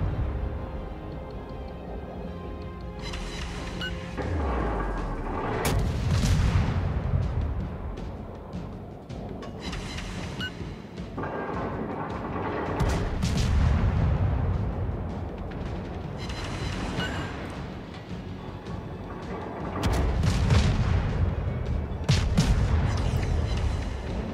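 Naval gunfire in World of Warships, with an Omaha cruiser in battle: repeated heavy booming salvos and shell blasts every few seconds, each with a long rumbling tail, over continuous low battle noise.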